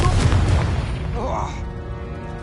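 Confringo fire-blast spell going off in Hogwarts Legacy, a loud booming burst at the start that rumbles and fades over a couple of seconds, with a faint swirling magical tone in the middle.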